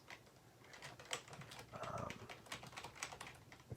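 Quiet, close typing on a computer keyboard, irregular bursts of soft key clicks with no talking.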